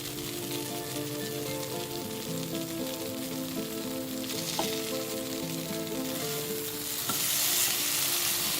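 Okra stir-frying Indian style in a pan, a steady close sizzle and crackle of hot oil running throughout, with a brief clink near the middle and a louder burst of sizzling toward the end.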